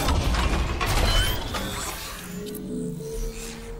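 Elevator machinery in the Dead Space video game: a loud, dense mechanical clatter of grinding gears and ratcheting parts with sharp metallic hits, easing after a second or so into a steadier low hum and whine.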